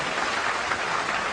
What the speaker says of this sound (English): There it is, there's the applause from the crowd.